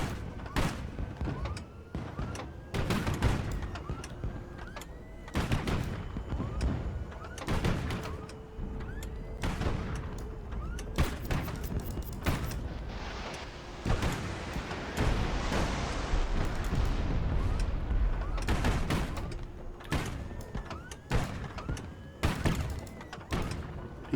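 Artillery barrage from the Highfleet video game, a dense run of booming thuds and blasts that keeps overlapping through the whole stretch, loud and continuous, with brief whining tones mixed in.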